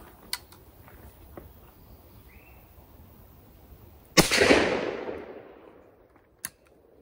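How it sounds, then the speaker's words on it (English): A Stevens Model 940 .410 shotgun fires a single loud shot at a rabbit-sized target 25 yards away outdoors. The blast trails off in a long echoing decay, with a few faint clicks before it and one sharp click afterward. "Recoil is pretty mild, as you would expect from a 410."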